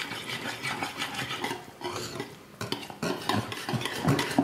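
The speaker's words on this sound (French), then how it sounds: "Maintenant, on remue tout." Ricotta, Parmesan and sun-dried tomato sauce with olive oil being stirred in a bowl, a steady soft scraping and rubbing that runs continuously, close and fairly quiet, with no voices.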